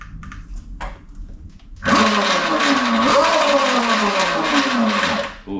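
A Heybike Villain electric motorbike's motor spins up after some faint clicks, a loud sustained whine that rises and falls in pitch with the throttle, close by.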